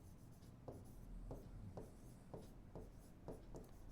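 Chalk or marker strokes on a classroom board as an equation is written during a Class 10 maths lesson on linear equations, about six quick scraping strokes in a steady rhythm, close and clear with no voice.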